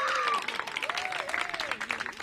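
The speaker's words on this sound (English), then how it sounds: "Give them a big round of applause." A brief burst of audience applause at a child care center opening in Washington, D.C., clapping spread across a crowd while a voice carries over it.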